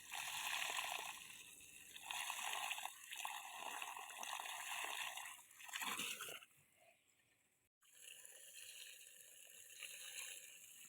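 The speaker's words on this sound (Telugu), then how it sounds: "బోరు నీళ్ళు తక్కువ పోస్తుంది" Weak water flow from a borewell pipe beside a farm field, a quiet continuous trickle and splash that dips briefly near the end before resuming.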